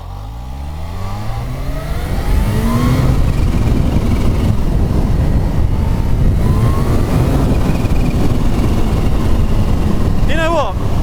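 A 2024 Kawasaki Ninja H2 SX SE motorcycle engine pulls hard at full throttle in second gear, its pitch climbing steadily as it builds into a loud, continuous roar with wind rush, then settles near the end.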